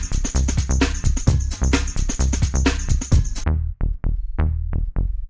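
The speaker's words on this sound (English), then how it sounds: "So there's your bass line." Old skool hardcore rave bass line, processed with a limiter and a small amount of bright room reverb, pumps in steady punchy notes, first with a dense backing and then alone in sparse hits.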